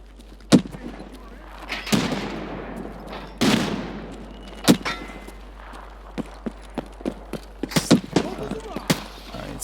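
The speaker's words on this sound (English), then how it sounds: "Throwing frag. Fire in the hole." A frag grenade detonates in Escape From Tarkov on the Ground Zero map, one sharp heavy blast among scattered loud gunshots that crack out in irregular bursts, some close and some farther off.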